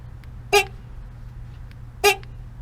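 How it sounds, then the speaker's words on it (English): Two short, weak honks from the horn of a 2013 Mazda 3 that has lost much of its volume, spaced about a second and a half apart over quiet background hum. "Before I begin, I'll give you a demo of the horn noise."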